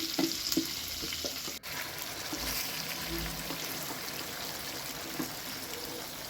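Chopped garlic frying in oil for Chittagong-style kala bhuna beef gives a soft, steady sizzle throughout, faint and fairly distant, with a brief knock partway through and no voices.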